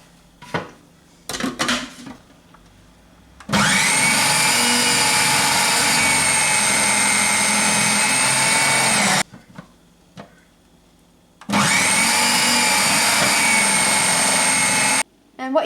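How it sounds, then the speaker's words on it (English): A small food processor whizzes chorizo and bacon in two loud, sustained whirring bursts of about five seconds each, separated by a short quiet pause. "because I've got this handy little food processor, I'm going to whiz them through here."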